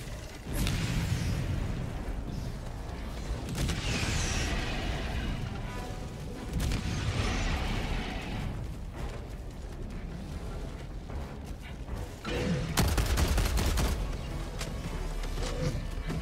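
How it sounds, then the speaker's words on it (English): Orbital strike explosions in the video game Helldivers 2 go off as several heavy booms spaced a few seconds apart, each a loud broadband blast with rumbling decay. Mechanical creaks and clanks sit between them. "Firing orbital strike."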